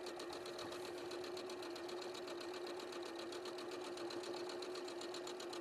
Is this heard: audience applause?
no